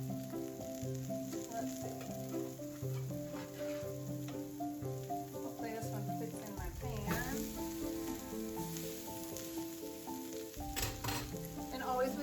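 Salmon searing in a cast iron pan, a soft steady sizzle sitting under prominent tonal background music, faint and fairly even throughout.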